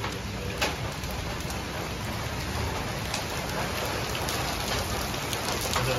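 Dense hail pours down on surrounding surfaces during an evening storm, a constant loud hiss and patter of countless impacts with occasional sharper clacks standing out.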